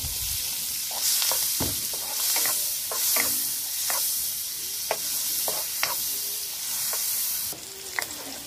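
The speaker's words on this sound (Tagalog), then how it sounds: "gigisa po muna tayo. Lagay po natin yung bawang" Garlic sautés in margarine in a pan, a low steady sizzle with intermittent scrapes and clicks of a spatula stirring, fairly quiet and close, with no talking.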